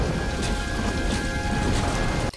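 Steady rain pours throughout a dramatic movie scene, a dense, continuous hiss with a faint low rumble beneath, cutting off abruptly at the very end.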